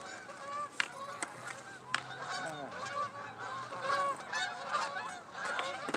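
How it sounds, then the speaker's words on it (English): Flock of geese honking repeatedly as they fly past outdoors, overlapping calls at moderate distance over steady background ambience. "Lots of honkers going by."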